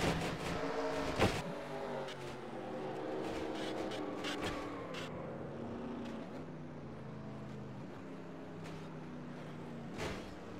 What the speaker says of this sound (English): Let's ride on board the 8 of Cole Deaver and see what he saw from this